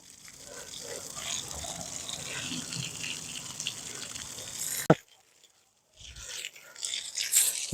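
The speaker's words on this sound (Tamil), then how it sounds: "நான் தண்ணி விட போகிறேன்" Water gushes out in a broad hissing rush for about five seconds, cuts off abruptly after a knock, then resumes more faintly near the end.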